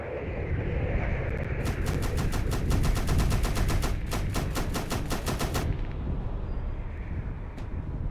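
Rapid automatic gunfire from a ship's weapons fires on an enemy vessel in the space game Space Engineers, a fast even burst of shots lasting about four seconds over a deep, constant rumble.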